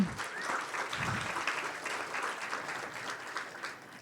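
A conference audience at a data school's opening session applauds the speakers, moderate and somewhat distant, with a few whoops and voices mixed into the clapping.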